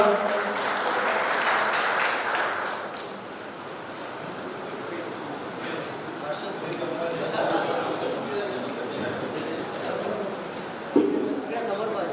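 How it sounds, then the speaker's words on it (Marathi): Audience applause at a university convocation ceremony for a newly elected ward councillor, steady crowd clapping for about twelve seconds with a brief louder burst near the end, chatter faintly underneath. "त्यांच्यासाठी जोरदार टाळ्या वाजवा"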